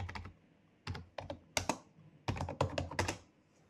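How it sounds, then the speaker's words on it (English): Bursts of quick keystrokes on a computer keyboard, close and clear, coming in short clusters separated by brief pauses. "So to search the documentation, just type NetHunter"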